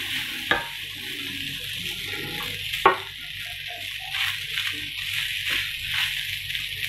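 Cooked rice being gently mixed in a pan: two sharp knocks of a spoon against the pan, then a continuous soft sizzle with low scraping and turning sounds.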